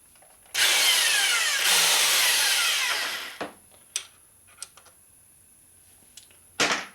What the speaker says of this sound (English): this is our standard size reamer, non-adjustable